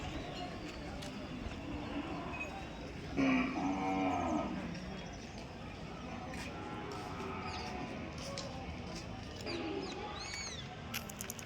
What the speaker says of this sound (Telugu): దూడ మంచి సైజుకి వచ్చే దూడ బ్రదర్